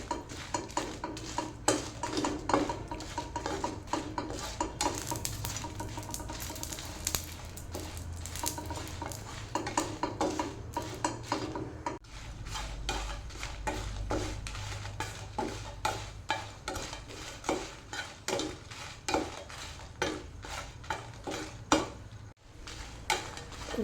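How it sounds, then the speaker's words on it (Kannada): Dried red chillies fry in a pan for chicken sukka masala, with continuous low sizzling under frequent metallic scrapes and clinks of a spoon against the pan, close and steady throughout with no talking. "ಇಲ್ಲಿ ಒಂದು 12 ಒಣಮೆಣಸು ತೊಗೊಂಡಿದ್ದೇನೆ, ಅದನ್ನು ಫ್ರೈ ಮಾಡ್ತೇನೆ"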